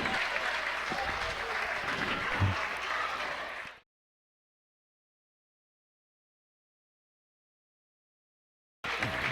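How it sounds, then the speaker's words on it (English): Wedding guests clapping at a reception, a full round of applause that cuts off abruptly into silence before a brief return at the very end. "A big round of applause for Rachel."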